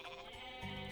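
A goat bleats once, briefly and faintly, in the video game Age of Mythology. The cry is a short, nasal, wavering call.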